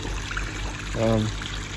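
Water trickles and splashes from a koi pond pump's outlet pipe, a soft continuous flow with a brief louder gush partway through.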